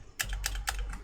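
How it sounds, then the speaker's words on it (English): Computer keyboard typing, three or four crisp key clicks in an even rhythm, close and fairly quiet, with no talk. "if you can't hear the keyboard"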